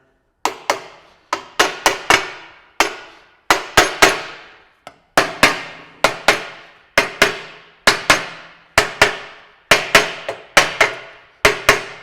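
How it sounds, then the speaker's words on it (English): Small hammer tapping a radius arm bushing on a Toyota Land Cruiser 80 Series, a steady series of sharp metallic strikes, often in quick pairs and triplets, close and loud with brief pauses between bursts. "Give it a few good taps around the outside edge."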